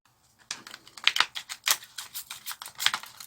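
Scissors snip through folded paper crown material in quick, crisp cuts, close up, following a brief silence at the start.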